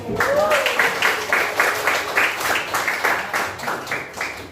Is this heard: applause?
yes